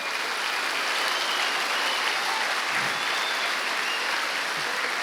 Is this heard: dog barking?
no